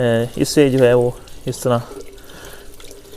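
Water splashes and pours as feet are washed during wudu, the ritual ablution before prayer, running steadily beneath a man's close, clear voice as he explains.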